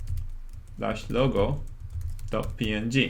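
Computer keyboard typing clicks faintly beneath a man's speech, the keystrokes light and scattered under the talking.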